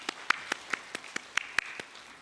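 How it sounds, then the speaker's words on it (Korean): A church congregation at an afternoon worship service claps in a slow, evenly spaced rhythm, about ten distinct claps, fairly close and moderate in level. "말씀 주신 하나님께 영광의 박수를 올려드리겠습니다"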